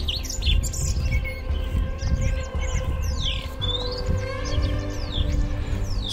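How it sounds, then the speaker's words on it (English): Birds chirp and tweet repeatedly at a moderate distance on a mountain hike at Roys Peak, Wanaka, New Zealand, several calls overlapping against a low steady background rumble. "Listen to those birds."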